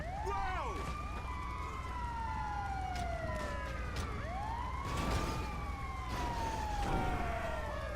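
An ambulance siren in GTA V Online wails in repeated rising and falling sweeps over a low engine rumble, fairly faint and steady throughout.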